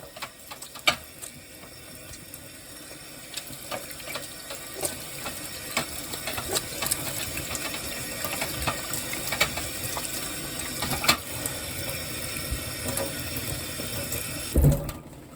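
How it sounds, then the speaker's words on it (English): A kitchen tap runs steadily while hands are washed beneath it, a continuous splashing hiss with small knocks and clicks, ending in a brief louder thump. "I'm about to get my hands all washed up."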